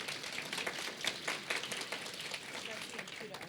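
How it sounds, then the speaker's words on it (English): Audience applause welcoming a guest speaker at a women's gathering, a soft, continuous patter of many hands clapping at moderate distance with faint voices mixed in. "Please give her a round of applause."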